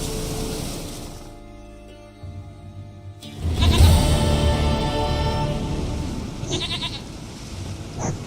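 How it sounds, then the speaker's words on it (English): A goat in The Witcher 3 bleats loudly and close, a long wavering cry that swells after a brief quieter stretch, with faint game ambience underneath. "Goat of mine, dearest,"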